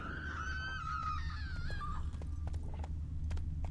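Roach, a horse in a video game, lets out a high wavering neigh over quick hoofbeats, with sharp clip-clop hits continuing after the whinny fades, all fairly close and clear.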